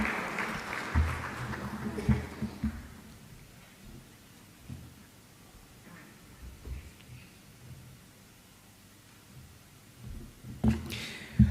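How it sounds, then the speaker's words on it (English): A conference audience in Kampala applauds after a speech. The clapping is faint and distant, fades over the first couple of seconds into quiet room noise, and returns briefly near the end. "Another round of applause for Mr. Yusuf Charanda."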